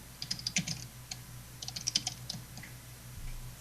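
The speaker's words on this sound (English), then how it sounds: "See, she's typing now." Rapid typing on a computer keyboard, bursts of crisp key clicks in irregular rhythm with short pauses, close but quiet over a faint room hum.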